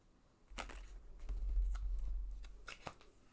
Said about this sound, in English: you gonna let me shuffle?